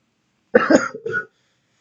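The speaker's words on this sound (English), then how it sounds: "the cough seems to be getting worse" A single short, husky cough, close and clear, in an otherwise quiet room.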